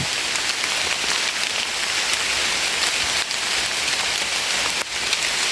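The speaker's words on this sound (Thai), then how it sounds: "แดดออกเปียงๆฝนตกครับพี่น้อง" Rain falls during a sun shower, a steady, dense hiss of drops hitting surfaces nearby, continuous and fairly loud with no voices.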